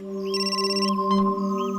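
A telephone rings with a steady electronic ringtone, a single close, clear burst of trilling tones over a constant hum, with no talk.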